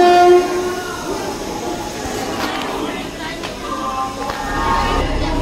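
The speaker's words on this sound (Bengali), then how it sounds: "আমাদের ট্রেনের সিগন্যাল হয়ে গেল, ছেড়েও দিল ট্রেন" Howrah–Tarakeswar local train number 37313 pulling out of the station, a steady rumble of the moving train with a horn-like tone near the start and a faint voice beneath.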